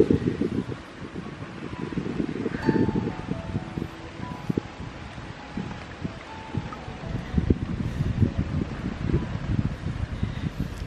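A strong north wind blows into the microphone beside a carp fishing lake, a steady low rumbling buffet with gusts that rise and fall throughout, and no one speaks.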